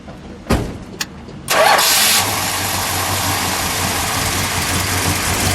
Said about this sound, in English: Let's start it.